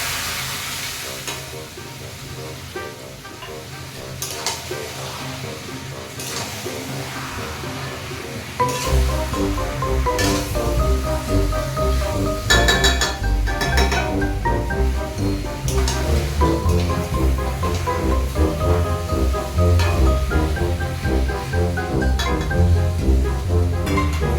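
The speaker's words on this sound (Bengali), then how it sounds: "এই যে পেঁয়াজটা ভেজে মটনগুলো সব দিয়ে দিলাম এবার মটনটাকে ভালো করে কষাতে হবে" Mutton tossed into a pan of fried onions sizzles and crackles steadily, turning louder and denser partway through as the stirring picks up, with close clattering of the spoon against the pan and no talking.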